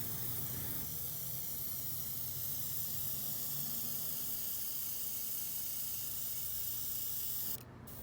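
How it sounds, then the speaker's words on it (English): An airbrush sprays paint for a stencil project, a steady, even hiss held for several seconds before cutting off abruptly near the end. "I'm testing a new airbrush for this project"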